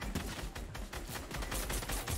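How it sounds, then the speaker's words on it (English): Dense, continuous video game gunfire, a loud rattling fusillade of rapid shots that fills the whole stretch without pause. "I'm shooting."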